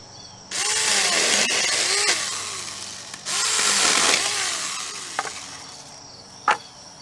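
A pruning saw cuts tree branches into firewood-sized pieces, making two long, close rasping bursts separated by a brief pause, with no voices.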